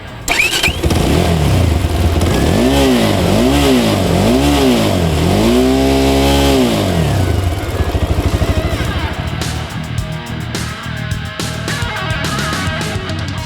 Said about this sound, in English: This one-pot engine also has a sweet-sounding exhaust.